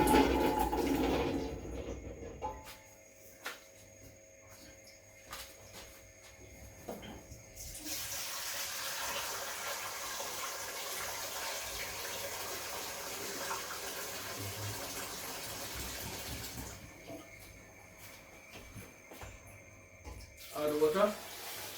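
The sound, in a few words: water running into a pot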